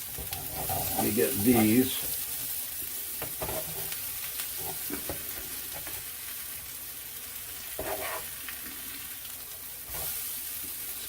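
Homemade hashbrowns frying in a hot skillet, a soft steady sizzle broken by spatula scrapes and clatters as they are turned, with someone talking briefly.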